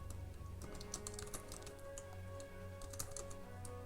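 Rapid clicks of typing on a computer keyboard patter in an irregular run under a low steady hum, close and fairly quiet, with no voice present.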